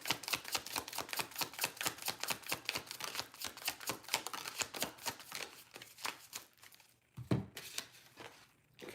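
Tarot cards are shuffled close up, a fast even riffle of crisp card flicks running for several seconds before slowing, then a sharper slap and rustle as cards are drawn, quiet and without talk.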